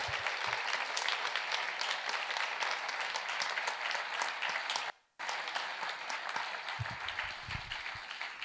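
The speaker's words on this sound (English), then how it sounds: "please give a round of applause to this wonderful team" At an annual meeting, a crowd gives a round of applause for the staff team: sustained, dense clapping from many hands that dips out briefly midway, then resumes at steady strength, with a few low thumps near the end.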